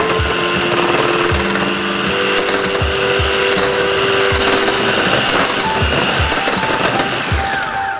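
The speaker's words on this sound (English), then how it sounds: "you want to scrape down the sides of your bowl intermittently while you're blending." Blender chopping and pureeing a pear and blue cheese dessert mixture with walnuts, a loud, steady mechanical whir with a rhythmic knocking pulse running throughout, no talking.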